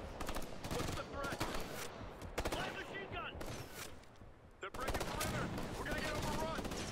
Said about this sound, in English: Pretty sure I just shot my own guy in the leg.